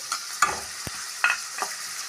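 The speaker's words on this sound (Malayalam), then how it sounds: "നന്നായിട്ട് നമുക്ക് ഫ്രൈ ആക്കണം." Green chillies with crushed ginger and garlic fry in a pan, giving a soft, steady sizzle. A few sharp scraping stirs cut through at intervals, close by and with no voices.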